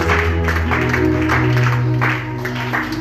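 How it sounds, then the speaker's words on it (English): A church conference congregation claps steadily over sustained musical tones, loud and continuous, easing slightly toward the end. "Let's clap our hands for Jesus."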